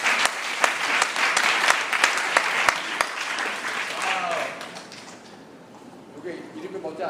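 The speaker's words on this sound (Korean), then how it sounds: "박수 한번 부탁드립니다" An audience at a lecture gives a short round of applause lasting about four seconds, dense and fairly close. It fades out, and then a voice begins speaking.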